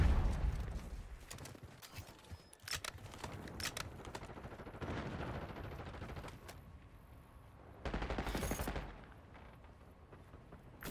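Rapid bursts of automatic gunfire in a Black Ops 6 multiplayer match rattle fairly quietly at mid distance, with louder flurries near the start, middle and around eight seconds.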